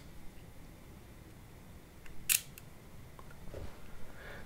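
A film camera's shutter fired once at a slow speed such as 1/30 or 1/60 second, a single close mechanical click over faint room hiss, followed by soft handling sounds.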